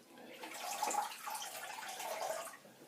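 Water from a tap runs steadily at low volume, rinsing thick shaving lather off a Kai Captain replica razor for a few seconds, with no talking.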